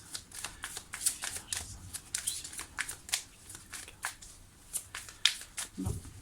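A tarot card is drawn from the deck, with a close run of crisp card shuffling and flicking, rapid papery snaps in an uneven rhythm, then a soft thump near the end.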